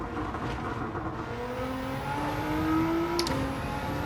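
The 1000-horsepower Nissan R35 race car in Gran Turismo 7 drones loudly and steadily, its engine pitch climbing in long rising sweeps as it accelerates, with no speech over it.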